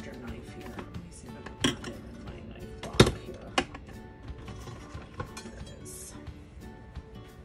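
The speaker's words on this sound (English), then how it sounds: "Let me see if I can put it in my knife block here." A kitchen knife handled at a knife block, with sharp metallic clicks and clacks, one louder knock in the middle, scattered among quieter handling noises close by.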